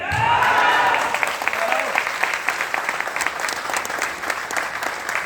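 Audience applause at an RCM business seminar in Amravati, a dense crowd clapping steadily and loudly, strongest at the start and easing slightly, with a faint voice briefly over it.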